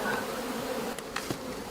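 Honeybees buzzing steadily at a beehive during mobile beekeeping, a dense close drone with a few louder passes as individual bees fly near.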